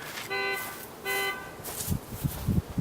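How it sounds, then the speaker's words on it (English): Car alarm bursts out in two short repeating electronic tones near a beekeeper installing a box of bees, each burst lasting about a quarter second, followed by rustling handling noises. "Thank goodness for the alarm going off."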